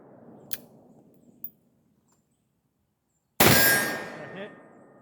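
A single loud metallic clang rings out as a bullet strikes a metal target, following a couple of faint ticks and a brief silence, with the ring fading over a second.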